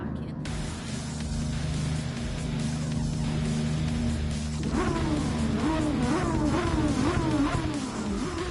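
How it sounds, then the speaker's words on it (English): Race car engine from the Gran Turismo video game, a steady droning tone that shifts into rising, stepped revs partway through, sounding like repeated gear changes over a hissy background. "You can actually hear the car."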